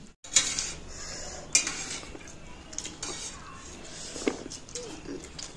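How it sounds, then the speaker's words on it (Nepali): Chicken feet fry in a pan while a utensil stirs and scrapes against the metal in scattered clinks, with a soft sizzle underneath and faint voices in the background. "मैले चाहिँ आज यो कुखुराको खुट्टा ल्याएर यसरी बनाएर भुट्दैछु त"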